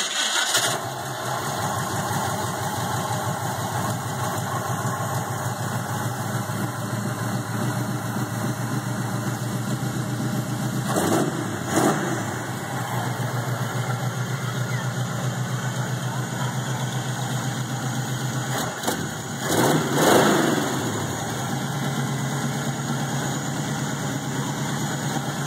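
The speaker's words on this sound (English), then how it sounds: "This is a running Chevy 350." A running Chevy 350 V8 from a 1971 GMC truck, fitted with headers, idling steadily and evenly throughout, with a couple of brief louder revs or knocks partway through.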